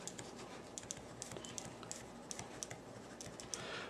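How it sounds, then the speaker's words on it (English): A Livescribe 3 smartpen writes on paper, giving faint, quick tapping and scratching strokes in an irregular rhythm, close up and quiet with no talking. "I'm going to go ahead and write,"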